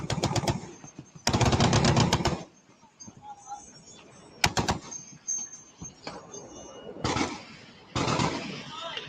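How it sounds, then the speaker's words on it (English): Bursts of .50 caliber machine gun fire, loud and close, in several rapid volleys separated by short pauses, with people talking in the gaps. "Wait till this 50 cal pop off."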